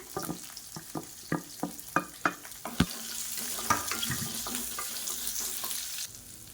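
Finely chopped onions and a few small shallots drop into hot oil for a cauliflower gravy, opening with a run of evenly spaced sharp stirring knocks, then settling into a bright steady sizzle with occasional scrapes, close and unaccompanied by talk.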